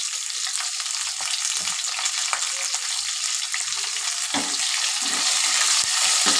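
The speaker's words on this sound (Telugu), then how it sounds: "కొద్దిగా ఫ్రై చేస్తానండి బాగా వేగిపోయింది అండి" Drumsticks and onions frying in hot oil, a dense continuous crackling sizzle heard up close, with occasional soft stirring knocks, steady and growing slightly louder toward the end.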